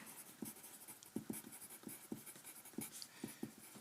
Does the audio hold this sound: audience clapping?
no